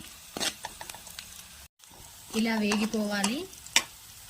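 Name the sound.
onions and green chillies frying in oil in a kadai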